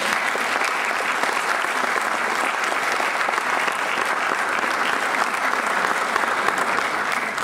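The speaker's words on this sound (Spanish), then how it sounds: "les pido un fuerte aplauso" An audience gives a steady, loud round of applause for the invited guests, Javier and Natalia, a thick wash of clapping that holds evenly throughout.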